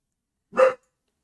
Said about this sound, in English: Hey, puppy, why you barking? Why are you barking?